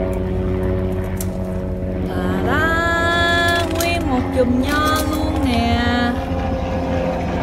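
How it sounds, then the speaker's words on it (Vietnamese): An airplane passes overhead above a grape garden, its steady propeller drone holding low and constant while a person talks nearby over it. "Máy bay à, để mình chụp tấm hình đã nha."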